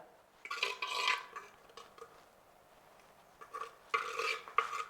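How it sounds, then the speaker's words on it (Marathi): Soft scraping of curd being spread inside a clay pot in short bursts, with quiet pauses between strokes, close by with no voices. "अर्ध हे मिश्रण ना सर्व भांड्याला असं व्यवस्थित लावून घ्यायचं आहे बघा"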